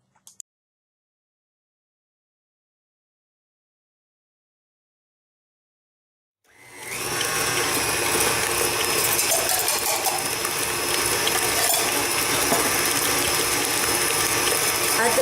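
Electric mixer beating cake batter with orange zest, starting abruptly after a few seconds of near silence and then running loud and steady, a dense continuous whir and rattle to the end.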